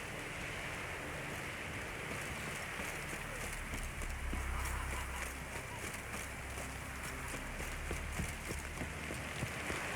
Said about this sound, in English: Rain's back again.